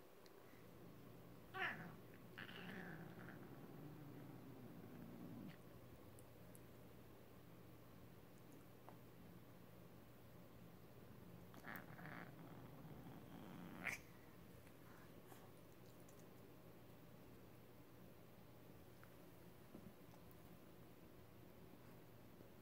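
Cats at home at bedtime give a few faint meows and soft chirps over a steady low background hum, with long quiet stretches between the calls.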